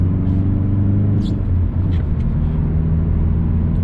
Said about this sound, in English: put it in a lower gear, want to speed up.